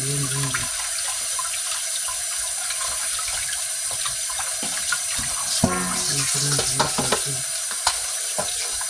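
Fumbwa leaves being washed in water in a sink to rinse off sand, with steady running tap water and splashing, handling noises throughout, close and fairly loud.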